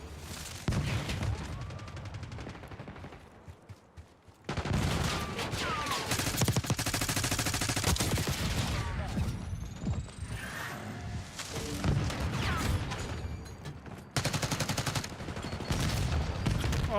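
Rapid gunfire bursts from Call of Duty: Black Ops 6 beta multiplayer in a hardpoint match, loud and nearly continuous with overlapping shots and explosive cracks, broken by one brief lull early on.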